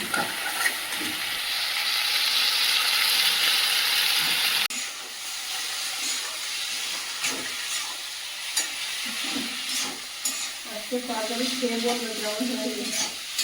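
Boiled potatoes and boiled spinach are stirred in a pan over a constant hissing sizzle and steam, with scattered scrapes and knocks of the spoon that are close and steady.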